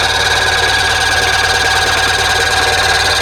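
A 1997 Polaris Indy Trail Touring snowmobile engine runs steadily up close, a loud, even buzzing drone with a constant idle-like rhythm and no voices over it.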